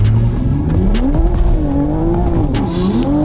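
A Toyota Supra spins its tires at a drag race start, with a loud close engine roar rising and falling under a harsh screech of wheelspin that runs the whole time.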